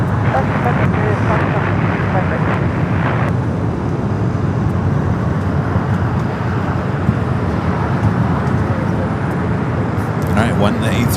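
An airliner rolls out on runway 25 left at LAX with a steady broad roar of engine and wind noise, while people talk over it throughout.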